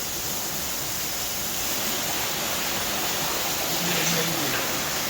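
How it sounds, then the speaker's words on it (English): An underground waterfall pours down inside an old mine, a steady broadband rush of falling water that swells slightly toward the end, with no speech over it. "you can see the waterfall coming down"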